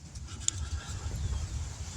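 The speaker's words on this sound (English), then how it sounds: "It's really raining heavily." Heavy rain falls outdoors in a steady, dense hiss and patter, with a single brief tick early on and no voices.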